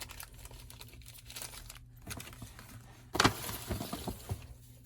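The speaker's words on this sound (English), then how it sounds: "crinkle paper." Crinkle paper rustling and crackling inside a gift bag as birthday gifts with little flowers are dug out, close and fairly quiet, with a sharper burst of crinkling toward the end.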